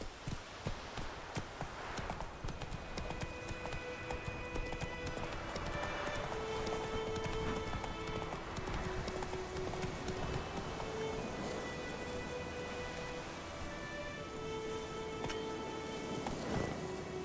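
Hooves of the horse Roach clip-clop steadily in The Witcher 3, a continuous galloping rhythm under game music, with a brief neigh possible near the end.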